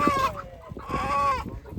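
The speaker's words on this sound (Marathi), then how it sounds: "कोंबडी धरायची आता" A farm chicken clucks and squawks in two agitated bursts while being chased into a corner, close and fairly loud.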